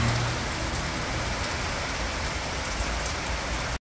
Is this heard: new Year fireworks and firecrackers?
no